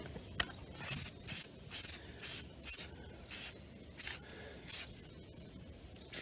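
Short repeated bursts of spray paint hiss as a coat goes onto a Corvette steering wheel, about eight evenly spaced passes with brief pauses between, close and moderately loud, no talking.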